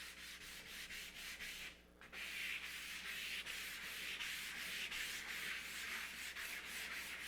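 Charcoal being rubbed across paper, producing a close, steady scratchy rasp in rapid repeated strokes, with one brief pause before the rubbing resumes and continues evenly.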